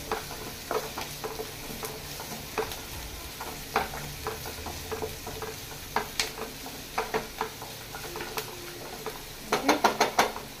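Oysters fry in a pan for Goan-style oyster sukha, giving a moderate, continuous sizzle broken by repeated spatula taps and scrapes against the pan. A quick burst of clatter comes near the end, with no voices.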